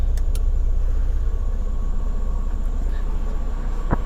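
Steady low rumble of a rental truck's engine idling nearby, with an automatic transmission, a continuous even drone throughout and no talk over it.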